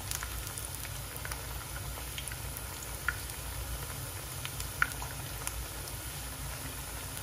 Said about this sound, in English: we're just flipping our plantains over